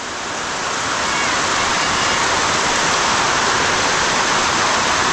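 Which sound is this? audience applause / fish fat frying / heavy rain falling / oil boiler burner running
heavy rain falling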